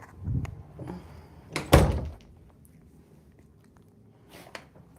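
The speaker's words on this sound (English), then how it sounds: "I'm going to go close my door really quick" An indoor door is pushed shut with a single solid thunk after some shuffling movement, followed by quiet room tone and a faint later knock.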